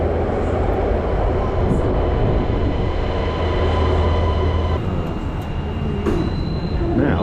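A Shanghai Airport Link rail train sits at the platform, its loud, steady rumble and mechanical hum filling the space, with faint high-pitched tones above and some background voices.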